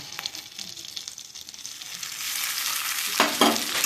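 Chili powder, salt and a cashew-sesame paste fry and get stirred in a pan for green banana curry, giving a steady close sizzle with a burst of spoon scraping near the end and no voices.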